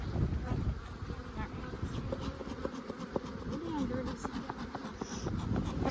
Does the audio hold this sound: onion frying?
no